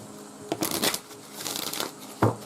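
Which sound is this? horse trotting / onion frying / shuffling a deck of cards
shuffling a deck of cards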